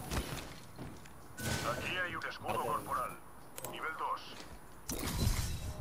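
Several sharp gunshot bursts from a video game, loud and spaced across the clip, with people talking between and over them.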